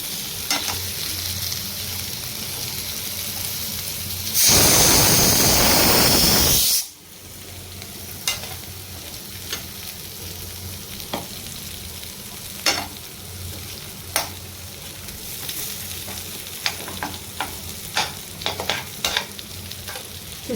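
Raw banana fries in a pan with a constant low sizzle and sharp scattered crackles and pops, broken by a loud burst of hissing spray a few seconds in; no talking.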